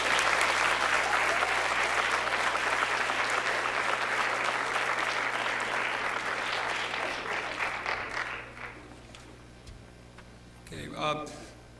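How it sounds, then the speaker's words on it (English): A school audience at a superintendent's awards evening gives a loud, sustained round of applause for honored students, dense clapping that thins out after about eight seconds, followed by brief talking. "We have one more round of applause for all of our students that got recognized tonight."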